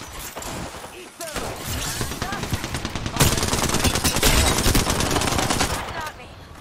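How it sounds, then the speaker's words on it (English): Automatic gunfire in the shooter game Apex Legends crackles in loud, rapid sustained bursts that intensify midway, with game voice lines and talk mixed in over the shooting. "I am taking fire"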